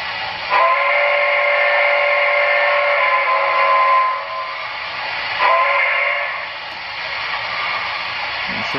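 A Broadway Limited ATSF 4000 class model steam locomotive plays its chime whistle in two long, steady, loud blasts, the second following a brief dip.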